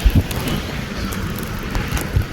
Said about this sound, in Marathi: पाऊस आहे सुरू